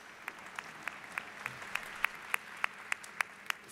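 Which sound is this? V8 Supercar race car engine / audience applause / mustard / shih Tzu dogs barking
audience applause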